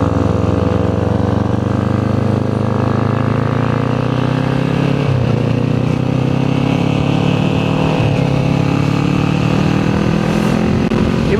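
A Kawasaki Z400 motorcycle engine under way on an expressway: a loud, continuous close-up drone with slowly shifting pitch and no talking over it.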